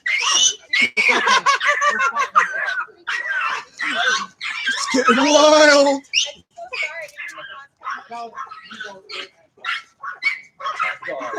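A dog barks and yelps excitedly at home amid lively chatter and laughter, the barks mixed in with overlapping voices close by.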